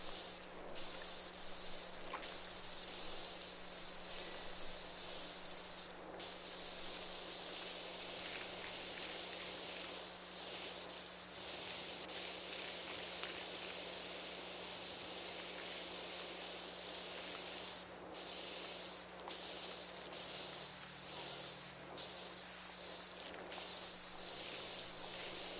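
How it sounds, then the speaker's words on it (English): Steady pressure-washer spray hisses continuously from a gutter in the PowerWash Simulator 2 video game, a dense, unbroken wash of broadband noise with brief dips as the nozzle stops and restarts, under a low constant hum. "We probably didn't even need to spray that in some parts of the gutter."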